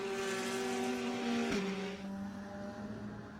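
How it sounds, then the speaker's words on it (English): A Ferrari race car drops through the downhill turn at Lime Rock Park during a Pirelli World Challenge Grand Prix, its loud engine holding a steady whine, then falling sharply in pitch midway before settling into a lower drone. "as that R Ferry Ferrari drops down through the downhill turn"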